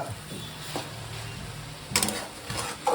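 Tender eggplant frying for curry in a pan over half heat gives a soft, steady sizzle, with a few sharp scraping and stirring clatters of utensil against the pan.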